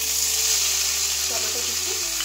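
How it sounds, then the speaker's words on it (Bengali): Whole spices such as cardamom and cumin tempered in hot oil for a veg dal, a loud, dense sizzle with light stirring over a steady low hum. "ফোড়ন দেওয়ার পর হালকা নেড়ে চেড়ে"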